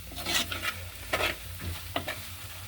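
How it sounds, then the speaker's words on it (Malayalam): Onions, shallots and chillies frying in a pan, stirred with several bright scraping strokes over a soft, continuous sizzle close by, no voices. "ഇളക്കി നന്നായിട്ട്"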